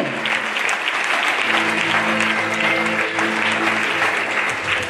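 Steady, loud applause fills a church as the congregation acclaims Jesus during a Sunday service, continuous clapping with a sustained tonal hum of voices or music underneath.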